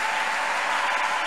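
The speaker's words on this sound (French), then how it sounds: "Est-ce qu'on peut offrir à Dieu une acclamation?" Congregation applauding during a sermon at a church seminar, a dense, steady wash of clapping that fills the whole short stretch at close range with no voices over it.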